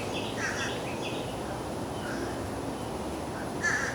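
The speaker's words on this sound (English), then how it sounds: "I really hope y'all don't hear that bird, because he keeps going ah ah ah ah like every 2 seconds" A bird, likely a crow, gives repeated short harsh calls in bursts every second or two, faint and somewhat distant over steady outdoor background noise.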